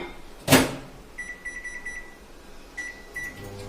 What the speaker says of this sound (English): heat up in the microwave